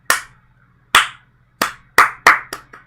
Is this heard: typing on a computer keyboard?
no